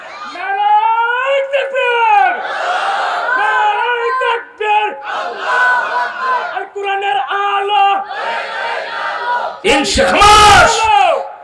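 A crowd at an Islamic sermon gathering shouting slogans in unison, loud rising and falling massed voices in call-and-response, ending in a burst of roaring cheers.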